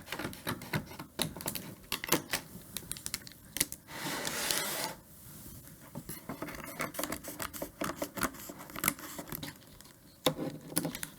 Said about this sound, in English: I'm going to take my scissors and trim off this excess backer